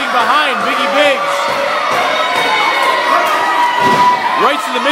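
Loud, continuous cheering and shouting from a wrestling audience rallying behind Biggie Biggs, a dense crowd roar with scattered whoops across the whole stretch.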